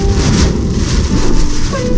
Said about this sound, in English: musing about those things as I try and distract myself from this storm